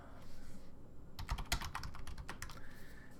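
Computer keyboard typing a short terminal command, a quick burst of crisp key clicks over about two seconds in a quiet room.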